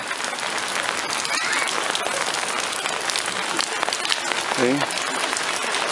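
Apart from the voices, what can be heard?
heavy rain at home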